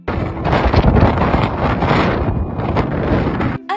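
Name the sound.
strong wind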